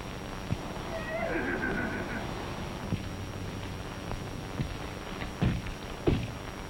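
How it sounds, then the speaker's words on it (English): A horse whinnies, a wavering high neigh that falls away, followed by a few scattered thumps and knocks. "That's that horse of mine, Tarzan."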